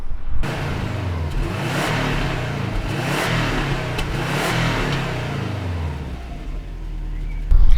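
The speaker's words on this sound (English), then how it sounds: "this is what it sounded like when it was stock" A 2003 Subaru Forester engine with its stock exhaust idles with a deep rumble, then revs repeatedly in surging bursts, loud and close, with no talking.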